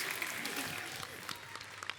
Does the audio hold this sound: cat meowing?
no